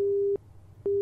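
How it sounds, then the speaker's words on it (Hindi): A phone rings with an incoming call from school, a steady electronic tone that stops briefly and then sounds again, clear and close. "दामिनी एक मिनट रुको, चिंकी ने स्कूल से फोन आ रहा है।"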